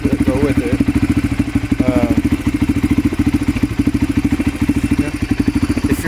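A 1997 Honda TRX300EX ATV idles after a cold start, its single-cylinder engine chugging in a loud, fast, steady rhythm close by throughout.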